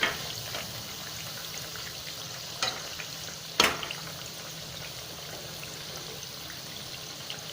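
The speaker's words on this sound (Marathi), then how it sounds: "याला छान खरपूस कलर येईपर्यंत आपल्याला हे तळून घ्यायचे आहे" Sabudana vada frying in hot oil, a soft steady sizzle with a few sharp crackles and spatters when the fritters are moved or turned, close and without talk.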